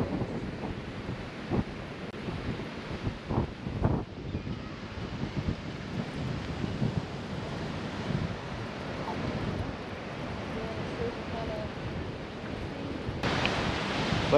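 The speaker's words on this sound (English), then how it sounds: "Pretty big waves today." Big ocean waves break and surge along a Carolina coast beach beside a camping area, a steady broadband roar with wind buffeting the microphone throughout and no talk.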